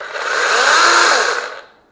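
Cordless 18-volt battery chainsaw with a 5 Ah pack running at steady high speed, a loud continuous electric whine close up that winds down as the trigger is released.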